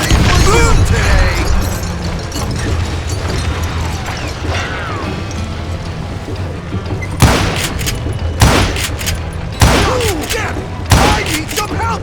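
Gunfire in the Western shooter Call of Juarez Gunslinger: a dense burst of game music and effects, then four sharp, loud shots spaced about a second apart in the second half, with some shouting in between.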